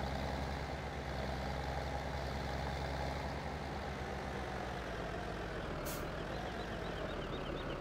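A truck backing up in Farming Simulator 2017, with a steady engine drone and a continuous low rumble throughout, and a brief hiss near the end.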